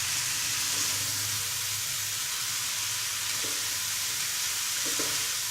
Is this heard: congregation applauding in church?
no